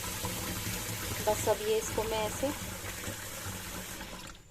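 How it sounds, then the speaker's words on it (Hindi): Water runs steadily into a container for soaking mung dal, a continuous splashing wash under a woman's close speech throughout. "पानी भर के रख दूंगी"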